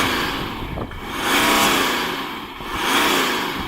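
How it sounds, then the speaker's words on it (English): A BMW X3 M40d diesel SUV engine revs twice while parked, rising and falling in two smooth, loud swells with a steady idle hum between them. "So, Richard, do you want to rev up your diesel?"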